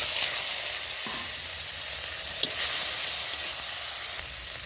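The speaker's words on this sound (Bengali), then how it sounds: "ফোড়নে দিচ্ছি তেজপাতা, 5 ফোড়ন, শুকনো লঙ্কা একটা, আদা, টমেটো" Bay leaf, panch phoron, a dried chilli, ginger and tomato sizzle steadily in hot oil for a Bengali moong dal with bottle gourd, a continuous bright frying hiss with a few soft stirring clicks.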